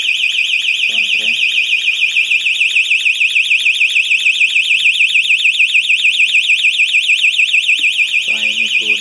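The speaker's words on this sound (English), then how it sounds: "So you can see now the alarm was activated." An alarm system tone sounds after contacts are opened without an access card: a loud, continuous warbling electronic siren that runs the whole time, with brief low voice sounds near the start and end.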